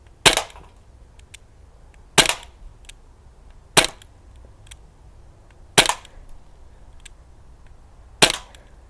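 Five sharp, sudden air rifle shots from a Crosman Mako fired at cans, spaced about two seconds apart, each a crisp crack with a brief decay above a quiet outdoor background.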